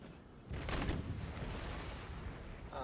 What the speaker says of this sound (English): artillery, and they're already killing us